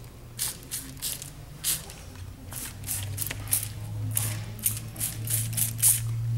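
Repeated short hissing spray bursts of Boracare wood treatment from a hand spray bottle onto an old wood window, roughly a dozen quick squirts at an uneven pace over a low steady hum.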